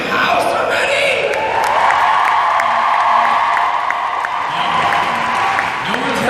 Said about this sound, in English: Can we give a big, exciting round of applause for R2 in the damn house already?